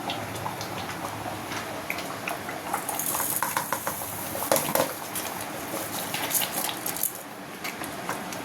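Washed rice pours into a cooking pot already partly cooking, a soft continuous rattle and wet shuffle with a few metallic clinks of a spoon against the pot, close by, with no talking.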